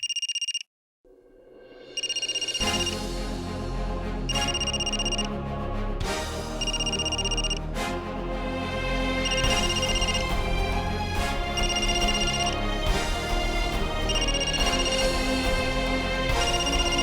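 A telephone rings in a repeating electronic ringtone, with bright tonal pulses in regular bursts over a loud, dramatic music bed that carries on throughout.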